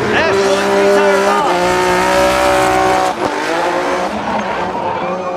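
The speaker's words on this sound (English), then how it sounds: "both of the drivers burning tires on the straightaway" Formula Drift Japan cars drift side by side and burn their tires down a straightaway. Loud, sustained engine wails and tire squeal rise and bend in pitch, with a brief dip midway, under a commentator's voice.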